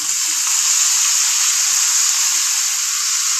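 Kolmi greens dropped into a pan of frying onion and garlic over lowered heat, giving a loud, steady, close hiss of sizzling that holds evenly throughout.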